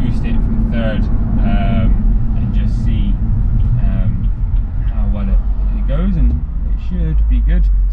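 A BMW N55 turbocharged engine in an F-series car accelerates under boost from third gear, a deep droning rumble with rising tone sweeps, heard from inside the cabin alongside someone talking throughout.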